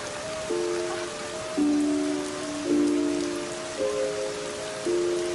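Steady rain pours on a surface outdoors on a mountain trail, a loud continuous hiss that lasts throughout, with a tonal music-like drone running underneath and no talking.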